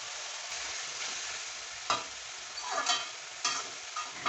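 Crushed black pepper and fennel seeds sizzle in a pan with softened onion and tomato for a crab pepper roast, a steady close frying hiss broken by a few louder stirring scrapes, with no voices.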